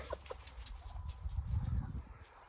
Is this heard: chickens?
yes